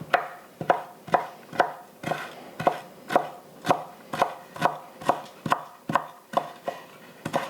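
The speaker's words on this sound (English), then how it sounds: "And then chop." A knife chops thinly sliced lemon on a cutting board in a steady rhythm, about fifteen crisp close knocks, with no talking.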